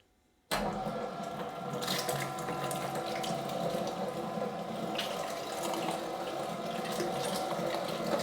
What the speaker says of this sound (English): The first thing we do is we grind the meat through the 10 ml blade.